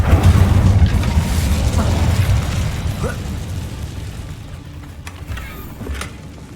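Incendio fire spell cast in the Hogwarts Legacy video game, a loud burst of fiery roaring that erupts at once and slowly fades over several seconds, with no talking.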